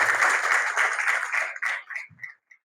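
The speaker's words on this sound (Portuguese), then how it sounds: "a quem eu peço uma salva de palmas de todos" An audience applauds for Professor Aloysio Nogueira in a dense burst of clapping that thins out, with a few last scattered claps before silence.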